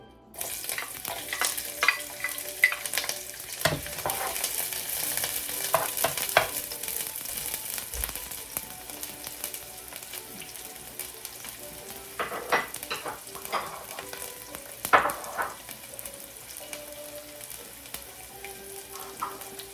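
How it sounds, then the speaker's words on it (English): Onions fry in hot olive oil in a pan, a steady crackling sizzle punctuated by intermittent utensil knocks and scrapes, close and fairly loud throughout. "I have some olive oil in there heating up, and I'm going to put in the onions."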